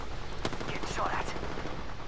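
Gunfire in Apex Legends: rapid bursts of shots ring out over in-game ambience, loud and close, for about two seconds.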